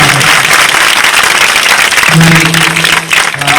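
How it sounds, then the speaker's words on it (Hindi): Loud, dense applause from a crowd at a village gathering for the sisters, continuous throughout, with a brief hum of tonal sound partway through. "इन बहनों के लिए भी जोरदार तालियों से"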